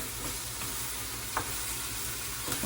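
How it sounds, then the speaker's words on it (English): Carrots, onions and celery sauté in a pot as a base for green split pea soup, giving a steady, even sizzle close by with a few faint stirring clicks and no voices. "always saute your carrots, onions, and celery when you're making this soup."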